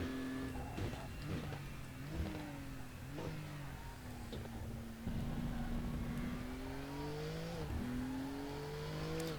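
A race car in RaceRoom Racing Experience runs over curbs, with a sustained engine drone that rises and dips through gear changes, plus rumbling bumps, heard at moderate level without talk.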